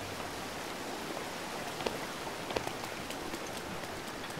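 Steady rain falls in the Zelda: Breath of the Wild video game, a soft continuous hiss with a few faint drop ticks scattered through, no voices over it.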